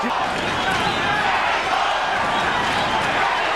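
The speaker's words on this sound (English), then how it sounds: "Crowd chanting Mexico" Boxing arena crowd chanting for Julio Cesar Chavez in his fight with Meldrick Taylor, a dense, steady roar of many voices filling the hall throughout, with no single voice standing out.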